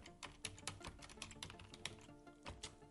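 Quick clatter of fingers typing on a computer keyboard, a dense run of light key taps close by and fairly quiet, with no one speaking.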